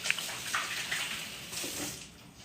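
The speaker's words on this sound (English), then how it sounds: "I'm gonna give my hands a little wash" Running tap water splashes steadily over hands being washed in a kitchen during cooking prep, close and moderately loud, with no talking.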